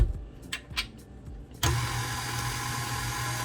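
Electric mixer whirring into gluten-free chocolate cupcake batter, starting abruptly after a few soft knocks and then humming steadily and close, with no talk.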